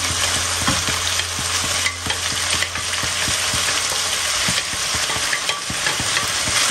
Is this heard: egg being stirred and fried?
yes